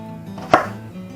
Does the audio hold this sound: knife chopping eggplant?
yes